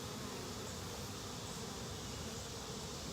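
Many bees inside a vigorous, crowded beehive: a continuous, even buzzing drone that holds steady throughout at low to moderate level, with no voices.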